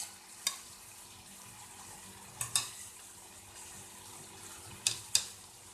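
Cauliflower frying in a pan for tawa vegetable pulao, a soft steady sizzle with a few sharp clinks and scrapes of a utensil against the pan, no talk.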